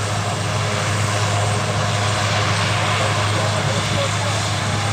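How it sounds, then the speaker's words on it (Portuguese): Rescue helicopters land and take off at a busy airfield during flooding, their rotors and engines a loud, steady drone that holds unbroken throughout, with a strong low hum underneath. "Aqui tem várias cores de helicóptero que estão a pousar aqui."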